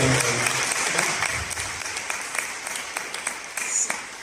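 An indoor audience applauds throughout, a steady wash of many hands clapping with some individual claps standing out sharply, sustained at an even level for the whole stretch.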